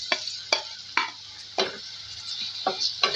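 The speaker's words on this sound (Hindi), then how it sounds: "इसमें हम ऐड करेंगे टमाटर" Tomatoes cook in a hot frying pan with a low, steady sizzle, broken by sharp, regular scraping strokes of a spatula about every half second, close and clear with no speech.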